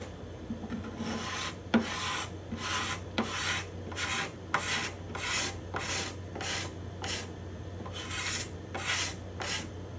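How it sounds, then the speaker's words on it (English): A scraper works shellac off the spruce top bindings and purflings of a guitar in a series of about a dozen evenly spaced rasping strokes, close and fairly quiet over a low steady hum. "It lets me know that I'm touching the wood as I scrape off some of the shellac."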